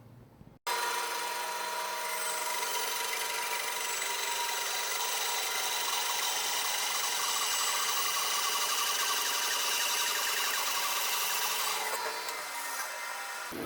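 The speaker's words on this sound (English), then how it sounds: "I'm going to cut them all to about 7/8 inch thick." A Little Ripper mill saw cuts walnut firewood into boards, a loud continuous bright rasping whine that starts abruptly after a brief quiet moment and runs steadily for about twelve seconds before easing off.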